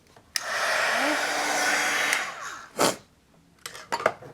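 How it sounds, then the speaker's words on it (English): A craft embossing heat gun blows with a steady, airy whoosh for about two seconds, then cuts off, followed by a few sharp clicks and handling knocks on a crafting desk. "so this is my heat tool."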